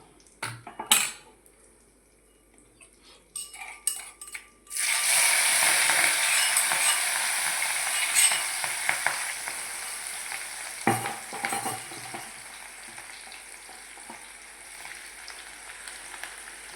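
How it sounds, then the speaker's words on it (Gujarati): Ginger-chilli paste for an eggplant curry hits hot oil with a sudden loud sizzle that keeps frying steadily, after a few clinks of a utensil and with occasional stirring scrapes on the pan, no talk. "હવે આદુ મરચાંની પેસ્ટ નાખશું"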